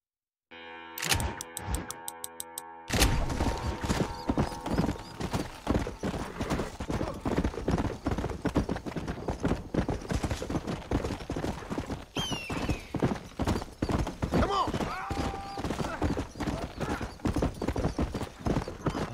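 Horse hooves gallop in Red Dead Redemption, a fast, steady clip-clop rhythm running loud and close for the whole stretch after a brief sharp game sound at the start, with a whinny heard partway through.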